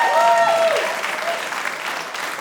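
Audience at a stand-up comedy special bursting into applause, a dense wave of clapping that stays loud and then tapers slightly, with a few voices briefly audible over it.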